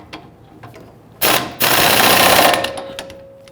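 Pneumatic impact wrench tightening a shock bolt on a 2010-2019 Ford Taurus rear suspension: two loud, rapid hammering bursts lasting about two seconds together, close by, after a few faint clicks.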